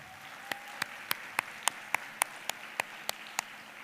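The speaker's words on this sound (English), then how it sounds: "please give yourselves a very well-deserved round of applause." Sparse, evenly spaced single claps, about a dozen in a slow steady rhythm, quiet and close against a faint room hum at the closing ceremony of the Y20 Indonesia 2022 youth summit.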